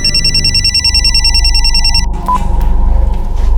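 A telephone rings loudly in a domestic drama scene with a repeating electronic bell pattern for about two seconds, then stops, leaving room noise and a faint beep.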